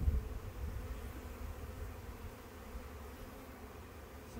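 Honeybees buzz around an open hive frame during a spring hive inspection, a steady low drone at moderate level that eases slightly over time, with no voices.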